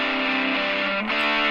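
Distorted electric guitar, processed through a compressor, rings out as sustained, dense chords at steady loudness, with a brief dip near the end before it swells back in.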